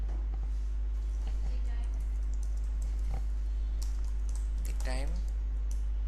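Clicky computer keyboard typing in irregular bursts during WordPress theme coding, under close, continuous talking over a steady low hum.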